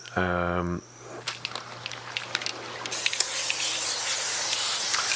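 A steady hissing spray of expanding foam from a can, shaping a waterfall, runs continuously with faint crackles, after a short low buzzing tone at the start.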